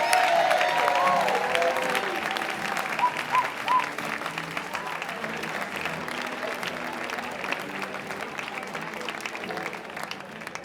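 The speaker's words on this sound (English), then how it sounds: "big round of applause for Boris Timanovsky." At a Moth storytelling show, a live theatre audience claps loudly and steadily for storyteller Boris Timanovsky, with a few faint whoops at the start and a dense wash of applause that tapers gently toward the end.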